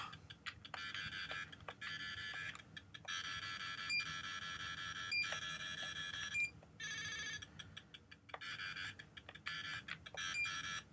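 Electronic beeping from a recovered Armor Battle toy, faint tinny tones chirping in rapid irregular bursts and pulses, close and with no talk.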